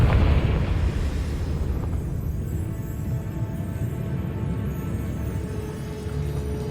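A Confringo fire spell from Hogwarts Legacy on PS5 explodes with a loud, heavy boom that fades into a long, low rumble.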